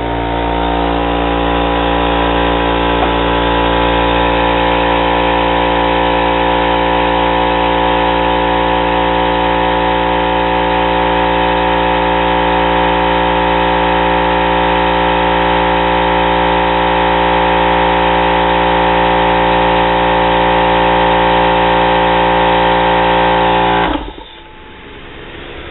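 An air compressor runs steadily with a loud, constant motor hum and drone that holds for over twenty seconds before abruptly winding down near the end.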